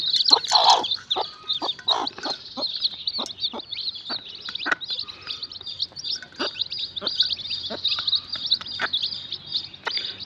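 A hen clucks steadily in short repeated bursts over a constant high chorus of newly hatched chick peeping, close and busy throughout.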